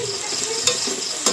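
Chicken and soaked red lentils fry in a pan for a bamboo shoot curry, giving a continuous close sizzle broken by two sharp scraping strokes of a stirring spoon.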